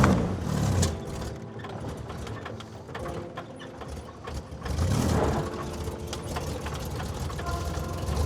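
A 1969 Jeep CJ5 engine idling roughly and on the verge of stalling, a steady uneven mechanical clatter with a surge in revs partway through, close and continuous.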